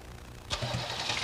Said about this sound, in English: Crank the engine.